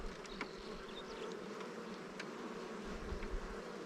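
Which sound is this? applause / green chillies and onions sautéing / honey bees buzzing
honey bees buzzing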